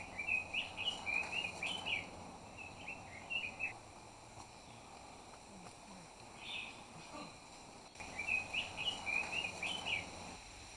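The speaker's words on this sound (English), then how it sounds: "The air is full of the sound of birdsong and the scent of forest flowers." Songbirds trill and chirp in bursts through a Hawaiian forest, clear warbling phrases coming in clusters at moderate distance over a soft steady background hum, pausing briefly before another run of calls starts up.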